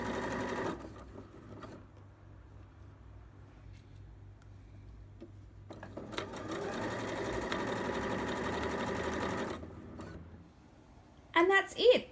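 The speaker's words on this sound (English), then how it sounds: "sew that all together on your sewing machine" A sewing machine whirs in two bursts while stitching a fabric mermaid tail blanket, a short one at the start and a longer steady run later, with a brief voice at the end.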